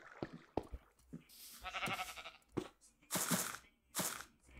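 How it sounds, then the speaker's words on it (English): Sheep bleat several times in a modded Minecraft game, short wavering calls in uneven bursts, fairly close and clear over quiet background. "Was that a sheep?"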